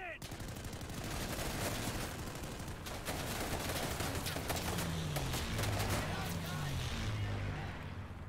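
Strafing gun run in Day of Infamy, a dense sustained roar of rapid gunfire and impacts with a low droning engine sweeping past near the end.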